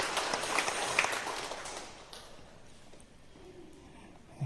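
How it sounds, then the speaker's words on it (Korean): A Methodist church congregation at Sunday service claps for its choir, a brief burst of fairly faint, distant applause that thins out and fades away after about two seconds. "우리 한번 더 뜨겁게 격려하며 박수해 주시기 바랍니다"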